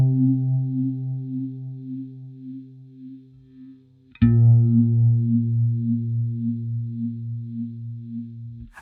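Mild modulation from the Anagram effect in KosmOS set to minimum, on a steady sustained synth tone that shimmers gently, then restarts with a fresh attack and carries on with a subtle wavering sweep.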